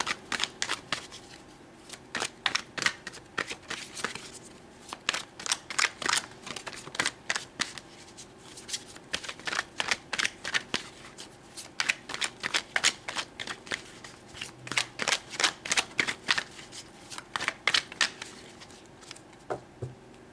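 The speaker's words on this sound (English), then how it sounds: "So let's pull some tarot." Tarot cards are shuffled by hand over and over in a steady run of soft riffling bursts, close and fairly quiet, with no talking.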